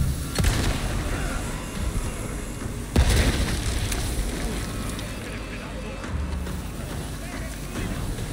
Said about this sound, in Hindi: बम फेंक दिया उसने